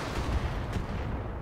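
Gunfire in the tactical shooter game Roguepoint, a brief dense burst of low booming shots rolling together, loud and muffled, with no voices.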